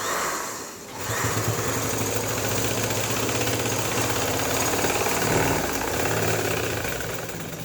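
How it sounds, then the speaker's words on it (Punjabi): A sewing machine stitching piping along the outer side of a sleeve, its motor running in a continuous, even whir for several seconds after a brief pause at the start. "ਪਾਈਪਿੰਗ ਨੂੰ ਆਪਾਂ ਬਾਹਰ ਵਾਲੀ ਸਾਈਡ ਤੇ ਸਲਾਈ ਲਾ ਦੇਣੀ"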